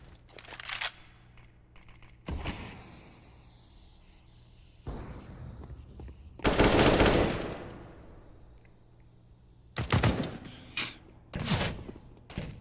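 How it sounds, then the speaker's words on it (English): Gunfire through smoke in a CS:GO match, several loud bursts of rapid shots separated by quieter stretches, some closer and harsher than others, with no speech over them. "Shooting through the smoke there,"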